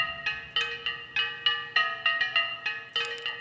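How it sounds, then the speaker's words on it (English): A small looped bell sample rings in a steady repeating pattern, bright metallic strikes with short decaying tails recurring about every third of a second, clean and alone. "Then I added a small bell loop that I found."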